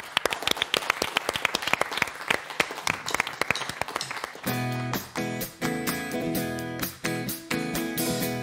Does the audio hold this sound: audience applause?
yes